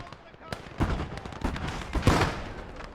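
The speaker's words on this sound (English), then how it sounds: "I'm spamming nades to where I think he probably has infantry" Grenades thrown in rapid succession in Gates of Hell: Ostfront, a WWII game, give a run of sharp blasts and cracks of mixed loudness, with a few heavier booms amid the battle noise.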